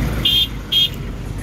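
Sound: road traffic at a congested roundabout in Nairobi

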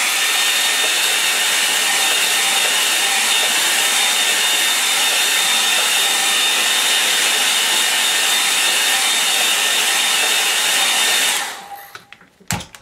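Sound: hair dryer drying a painting

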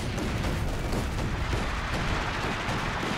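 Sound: artillery fire in the video game Company of Heroes 2

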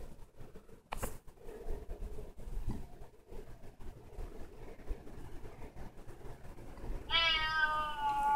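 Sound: cat meowing

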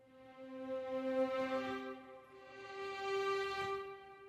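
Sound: sampled legato violin melody that sounds fake

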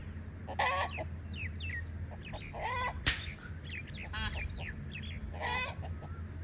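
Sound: roosters fighting

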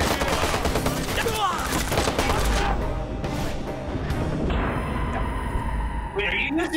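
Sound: SMG gunfire, Mac 10 or Mac 11, in Watch Dogs video game

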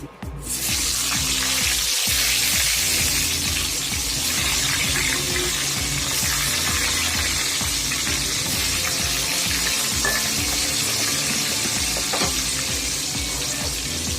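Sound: whole pointed gourds (potol) frying in oil

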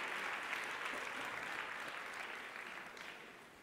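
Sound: applause

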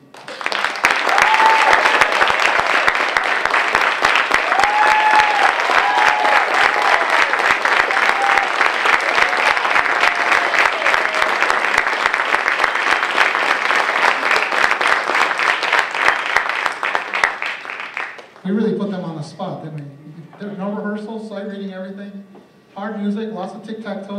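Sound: audience applause for orchestra

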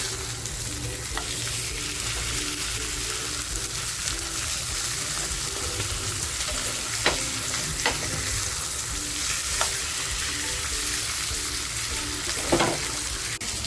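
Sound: pomfret in banana leaves frying in a pan, being flipped

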